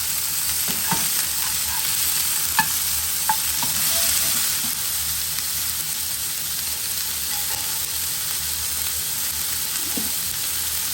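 Fish fries in a warm pan with a steady, loud sizzle and crackle, broken by a few small pops and stirring clicks, with no one speaking.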